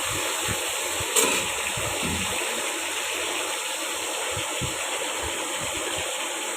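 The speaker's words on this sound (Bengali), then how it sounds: "মাছগুলো যে দেওয়া হয়ে গেছে ভাজার জন্যে, এই যে ভাজা হচ্ছে" Rita fish sizzles in hot oil with a steady, even hiss, broken by a single brief clink of utensil near the start.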